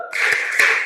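A group claps on command in a short, loud burst: a few sharp claps landing almost together, close and clear with no voices over them.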